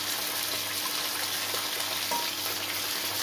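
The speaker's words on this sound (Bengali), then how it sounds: "একটু ভাজা হোক, তারপর চলছি।" Kulekhara greens frying in a pan give a steady, close sizzle that holds evenly throughout, with no voices.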